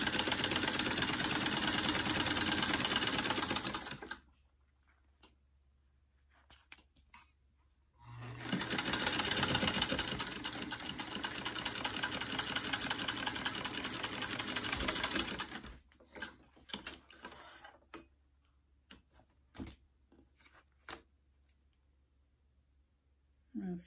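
Vintage Singer sewing machine back-stitching vinyl, a steady whirring run of several seconds that stops, then a second longer run, followed by scattered short clicks and bursts.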